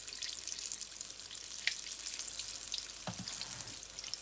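Battered chicken pakora pieces frying in oil on low heat, a steady, gentle crackling sizzle with occasional sharper pops and a brief utensil clink, nearby and moderately quiet.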